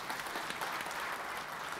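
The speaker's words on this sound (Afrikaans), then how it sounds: "Geef hulle 'n lekker hande klap." A church congregation breaks into steady, dense clapping that fills the whole moment evenly, loud and sustained with no pauses and no voices standing out.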